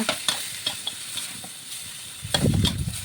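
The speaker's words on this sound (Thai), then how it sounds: "ใส่ซีอิ๊วดำลงไปค่ะ ผัดให้สีสันออกมา สวยงามนะคะ" Pork belly stir-fried with dark soy sauce in a big pot, a spatula scraping and clacking in uneven strokes over a soft sizzle that swells louder near the end.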